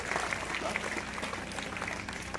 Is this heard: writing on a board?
no